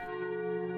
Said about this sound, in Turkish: Bir sokakta çan sesi duyuyorum.